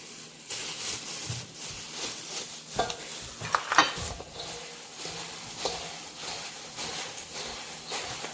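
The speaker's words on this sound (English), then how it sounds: "I'm going to mix up these ingredients" Cookie dough for sea salt caramel white chocolate chip cookies stirred with flour in a bowl, a close scraping and thudding of a utensil through thick mixture in uneven strokes, with no talking.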